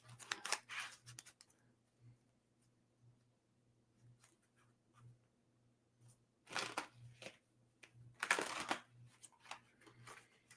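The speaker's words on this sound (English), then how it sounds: "Let me get a good shuffle here and mix them up good." Cards are shuffled in a few quick riffling bursts, separated by quiet pauses and soft handling sounds.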